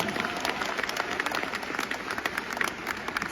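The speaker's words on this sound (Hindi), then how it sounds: "तालियां हो जाए एक बार।" Audience applause at a networking gathering, sustained dense clapping from a sizeable crowd, fairly close and steady for a few seconds with no talk over it.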